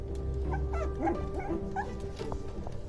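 A dog whimpering and whining in a series of short, high, wavering cries, fairly close, over a low steady background hum.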